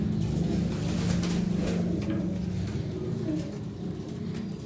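Pigeons coo in a loft kept in Qatar, a steady low murmuring of several birds close by, continuing throughout with faint background activity and no speech.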